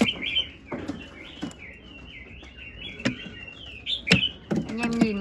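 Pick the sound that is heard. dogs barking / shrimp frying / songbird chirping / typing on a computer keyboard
songbird chirping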